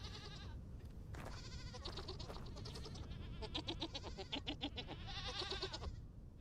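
Goats bleating repeatedly in Vintage Story, a modded hardcore survival game, with several overlapping calls in a steady series across the whole stretch, fairly close and clear, with no talking.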